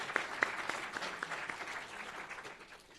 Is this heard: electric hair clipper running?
no